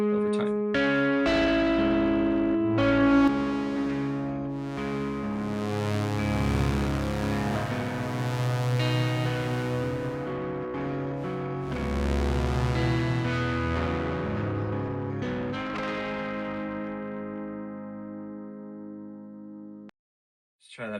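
Synthesizer chords whose filter opens and closes slowly, with the tone brightening and darkening in long sweeps under a sustained pad, running continuously for about twenty seconds before cutting off.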